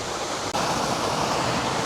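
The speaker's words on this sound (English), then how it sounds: "here, next to a waterfall" A waterfall roars in a steady, dense rush of broadband noise, loud and close, continuous without a break apart from a tiny momentary dip.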